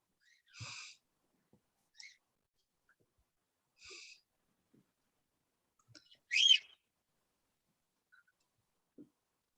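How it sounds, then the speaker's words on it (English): Birds outdoors give a handful of short, sparse chirps and calls with long quiet gaps between them. One call near the end is louder and sharper than the rest. "I like the birds."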